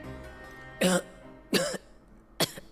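A video game character in Genshin Impact coughing up seawater: three sharp, harsh coughs spaced about a second apart, fairly close and clear, with no talking.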